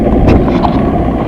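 Strong wind buffets the microphone aboard a fishing boat out on the water, a loud, steady roaring rush with no break and no voices.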